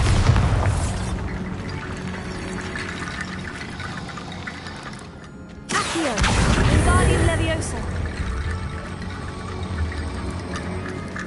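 A Bombarda explosion spell in Hogwarts Legacy gameplay gives a deep boom at about the middle, set against a constant dense wash of game ambience and effects, loud and close.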